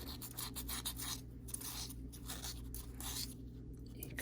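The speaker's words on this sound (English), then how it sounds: "we're going to sand that seam now" Close, continuous sanding of a solder seam on silverware, a rough rasping scrape in quick repeated strokes with brief pauses between.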